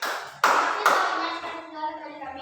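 A classroom applauds a group presentation, two sharp bursts of clapping giving way to scattered fading claps as voices murmur underneath.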